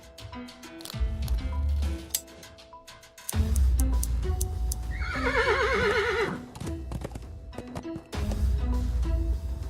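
A horse whinnies in the point-and-click adventure game Willy Morgan and the Curse of Bone Town, one wavering neigh over game music with clip-clop hoof sounds and ticking, loud and close.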